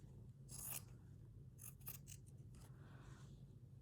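Scissors trimming a postcard for a stitchery journal, giving a few short, soft snips and paper scrapes close by at a low level, with no talk.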